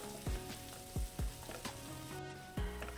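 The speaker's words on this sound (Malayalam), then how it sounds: "സവാളയും കൂടിയിട്ട് നന്നായി വഴറ്റിയെടുക്കണം കുറച്ച് കറിവേപ്പിലയും കൂടി ഇട്ടേക്കാം" Onions and curry leaves sautéing in a pan for a meatless fish-style curry: a soft, quiet background sizzle punctuated by several sharp knocks of a spoon against the pan.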